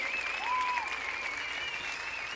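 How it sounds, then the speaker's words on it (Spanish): Audience applause at an outdoor pro-life rally, steady dense clapping from a crowd, with a faint whistle or tone riding over it. "Y este aplauso para ti, para que sigas luchando fuerte."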